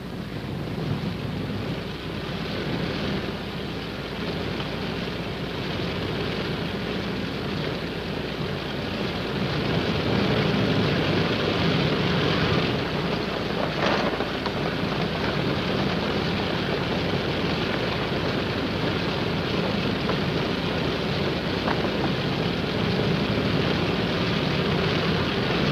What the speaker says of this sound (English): And the casualties go out by plane.